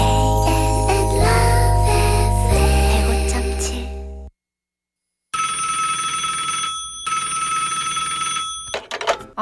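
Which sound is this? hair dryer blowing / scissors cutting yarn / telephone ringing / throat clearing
telephone ringing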